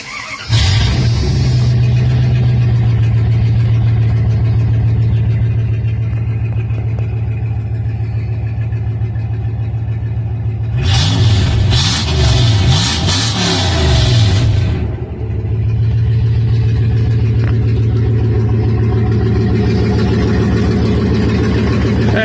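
A 1997 Dodge SST truck engine catches and settles into a loud, steady idle rumble, with one burst of revving partway through before it drops back to idling. No one speaks.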